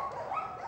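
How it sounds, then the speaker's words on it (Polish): At an animal shelter, a dog gives a brief, faint whine or whimper, heard alone. "Ten przemiły piesek właśnie dziś znalazł nowy dom."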